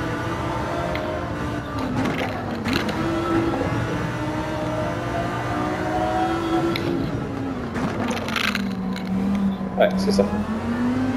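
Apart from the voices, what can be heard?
Honda NSX car engine in the video game Gran Turismo 7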